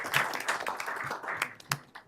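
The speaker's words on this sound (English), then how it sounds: "So, so a round of applause should go to the families as well." A small audience claps lightly for the families, a thin, uneven patter of separate hand claps that stays soft and close.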